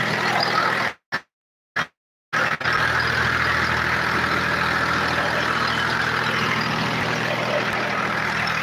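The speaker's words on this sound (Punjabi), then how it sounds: "ਦੇਖੋ ਤੁਸੀਂ ਜਨਰੇਟਰ ਨੇ ਜਿਹੜੇ ਉਹ ਚੱਲ ਰਹੇ ਨੇ" A farm generator powering crop irrigation runs with a steady, loud engine drone, briefly cutting out near the start before resuming and holding evenly to the end.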